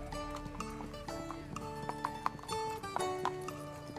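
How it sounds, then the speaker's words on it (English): Horses walk around an indoor riding arena, their hooves clip-clopping in a loose, uneven rhythm over music, with faint instructions from a voice in the background. "Walk your horses, please."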